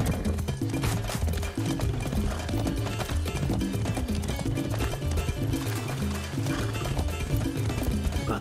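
In the video game Far Cry 6, horse hooves clip-clop in a quick running rhythm, loud and continuous over a busy game soundscape.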